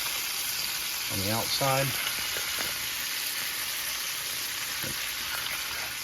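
A frozen venison roast sears in a hot pan with a loud, steady sizzle and crackle close by, while someone speaks briefly over it.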